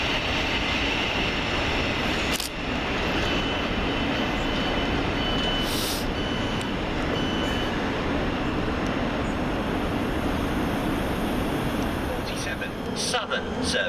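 A Govia Thameslink Class 700 electric train passes through Gatwick Airport station, with a loud, steady roar and rumble of rolling stock close by. Brief clanks and squeals cut in over the continuous rush.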